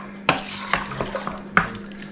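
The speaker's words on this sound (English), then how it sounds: "Give it another stir." A dark brown mixture is stirred in a pot: several distinct spoon scrapes and knocks against the metal sides over a low hum, close and clear, with no one talking.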